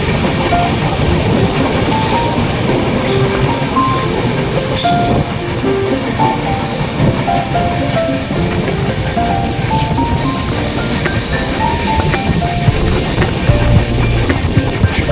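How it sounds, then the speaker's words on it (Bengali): A train rolls steadily along rail tracks, a continuous loud rumble with rhythmic wheel clatter and faint squeals, no voices. "এই ট্রেনে জার্নি করছি"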